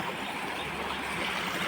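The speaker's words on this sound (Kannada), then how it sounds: "ಇದೊಂಥರ ಮಿನಿ ಫಾಲ್ಸ್ ಇದ್ದಂಗೆ" A village stream rushes over rocks like a mini waterfall, a steady loud continuous wash of flowing water close by.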